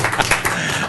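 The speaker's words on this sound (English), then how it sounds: "Please applaud." Brief applause at a city council meeting, a short patter of several people clapping at moderate loudness.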